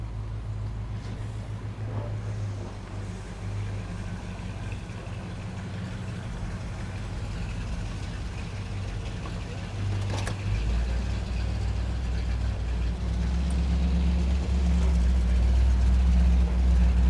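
A 1986 Pontiac Firebird, a Knight Rider KITT tribute car, idles steadily with a low, continuous rumble that swells slightly louder toward the end, with no talking.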